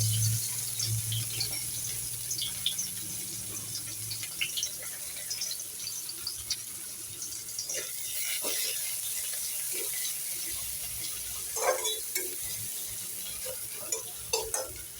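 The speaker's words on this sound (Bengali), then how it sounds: "তো তেলটা গরম হয়ে গেছে, আমি পেঁয়াজটা দিয়ে দিচ্ছি।" Onions dropped into hot oil in a kadai sizzle steadily while a spatula scrapes and stirs with intermittent clinks, close and moderately loud with no talking.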